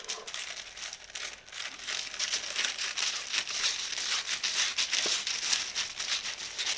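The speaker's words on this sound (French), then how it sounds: "Et après, il n'y a plus qu'à découper la nouvelle pièce de patron." Scissors cutting out a new paper sewing pattern piece, adjusted for the belly, give a steady run of close, dry crinkling and snipping for several seconds with no talking.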